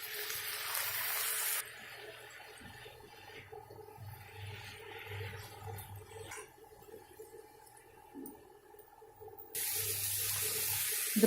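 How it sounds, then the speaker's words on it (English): Water gushes from a tap into a cooking pot for vegetable rice, with a faint steady splashing that stops for a few seconds and then resumes. "I'll just add in a bit of water."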